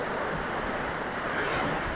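Strong wind roars continuously during the first rainstorm of the year in a Thai village, a dense, loud rushing noise with no talking.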